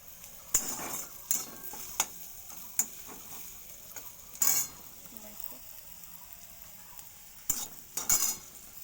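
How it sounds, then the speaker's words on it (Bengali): Vegetables frying gently in a pan, with a quiet low sizzle broken by sharp scrapes and clinks of a spatula stirring at irregular intervals. "তো আমি আগে খুব সুন্দর করে একটু ফ্রাই করে নেব।"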